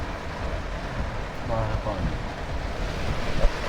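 Heavy rain pours during a storm onto a car pulled over at the roadside, a steady, dense broadband wash of drops that stays even and loud throughout.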